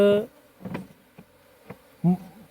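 Honey bees buzz in short, uneven bursts close by at a hive box, the droning rising and fading several times with quiet gaps between.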